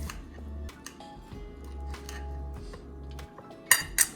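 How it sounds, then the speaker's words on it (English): A knife saws through cooked steak on a plate, giving soft scraping strokes over a low hum, ending in two sharp metallic clinks of cutlery against the dish. "Get into the steak. Should use a better knife."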